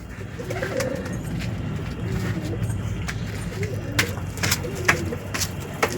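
Pet pigeons coo in low, soft bursts beside a child and adults chatting, with occasional sharper clicks and rustles close by.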